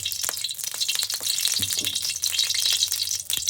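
A paste of ginger, garlic, onion, cumin, pepper, cloves, cardamom, cinnamon and chili fries in hot oil in a wok with a close, crackling sizzle and quick spitting pops throughout.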